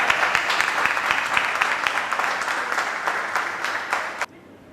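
A seminar audience applauds loudly in welcome of a swami, a steady, dense clapping that carries for about four seconds, then stops abruptly.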